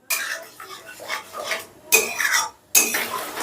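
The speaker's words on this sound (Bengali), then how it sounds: "এবারে গ্যাসের আঁচটা বাড়িয়ে দিয়ে এবারে 2-3 মিনিটের মতন কষে নেব।" Spice masala being stirred and fried in a pan over high heat, with a spoon scraping and clinking against the pan in bursts, sizzling beneath, close up and separated by short pauses.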